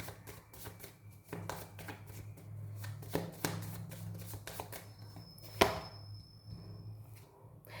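Tarot cards are shuffled in quick, crisp bursts of riffling and slapping, close and fairly quiet, with a few sharper taps and no talking.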